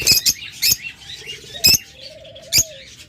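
Pet lovebirds, cockatiels and budgerigars in cages, giving sharp loud chirps and squawks in bursts along with softer chattering and a short wavering call, all close by and with no talking.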